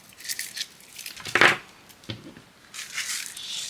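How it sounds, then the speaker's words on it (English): Scissors snip through paper or card while a mini 2026 calendar is being crafted, a few close crisp cuts with rustling handling sounds in between. "Snip that there."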